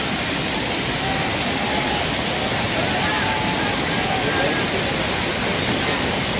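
Water from a waterfall rushes over a submerged tree during a search operation, a dense, loud, steady roar filling the whole clip without pause.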